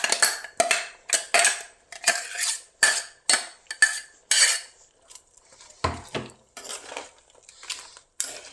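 A metal spoon stirs and mixes jenji sukka in a pan, scraping and clinking in a steady rhythm of about a dozen close, distinct strokes, then a few lighter taps, with no talking.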